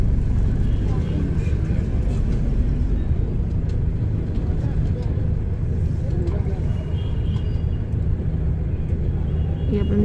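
Street traffic in Amritsar, India: a steady, moderately loud rumble of cars and other vehicles moving along a busy road, with people talking over it.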